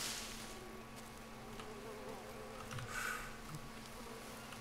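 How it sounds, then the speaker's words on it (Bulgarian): Flies buzz around meat in the survival video game Green Hell, a faint, steady insect drone with a few brief louder passes drifting close. "А, има мухи тук заради това."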